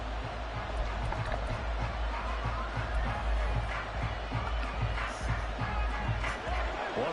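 A football stadium crowd builds noise ahead of a big third down, a broad continuous roar of cheering with low rumble, heard at a moderate distance and fairly even throughout.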